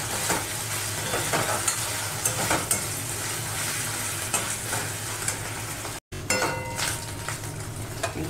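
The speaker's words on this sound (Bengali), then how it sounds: "এগুলো একটু ভালো করে আমি ভেজে নেব লাল লাল করে" Ginger and garlic paste fries in a pan with a steady, close sizzle, broken by occasional stirring scrapes and one brief dropout.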